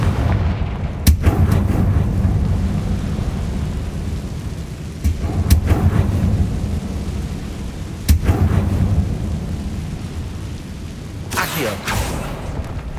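Confringo fire curse exploding in Hogwarts Legacy, a few booming blasts over rumbling game ambience, the hits arriving several seconds apart.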